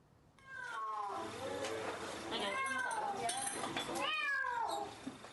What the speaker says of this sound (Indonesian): Terdengar suara kucing yang terus mengeong seolah minta tolong.